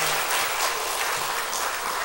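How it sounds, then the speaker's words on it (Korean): A congregation at a Sunday afternoon church service claps in encouragement, steady dense applause filling the room evenly for a couple of seconds. "격려의 박수가 필요합니다"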